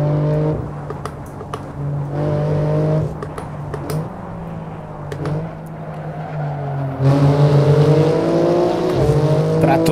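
A BMW M3 Touring pulls hard in fourth gear from low revs, its engine droning steadily with rising harmonics, then a gear change and a louder surge of acceleration near the end, with no speech.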